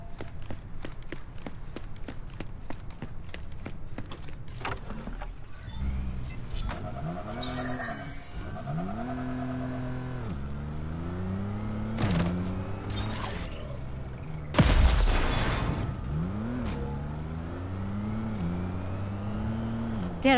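A car in the video game Crackdown 3 drives with an engine hum that rises and falls in repeated revving sweeps, steady and moderately loud, with a sharp louder burst about three quarters through.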